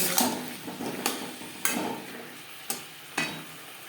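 Vegetables cooking with spices in a pan for a Bengali spinach curry, a soft sizzle broken by five sharp spatula scrapes and knocks against the metal at an uneven pace, close and clear.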